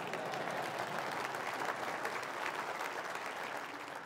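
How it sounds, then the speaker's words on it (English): Steady, dense applause from a large audience at a provincial State of the Province address, sustained throughout without pause and tapering only slightly at the very end. "Is that my parents clapping for themselves?"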